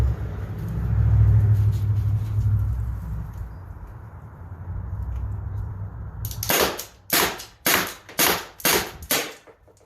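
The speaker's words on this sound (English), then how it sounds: "We've got 5 rounds fired from about 18, 19 feet away." A Byrna launcher fires six sharp, loud cracks in quick succession from close by, each with a brief tail, after several seconds of low rumbling background noise, with no talk.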